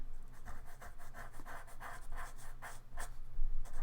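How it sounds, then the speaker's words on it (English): A pastel pencil scratches across the tooth of textured paper with the microphone close, making quick rhythmic rasping strokes that are soft but distinct, with a faint breath underneath and no talking. "You can hear probably the tooth of the paper as I'm doing that."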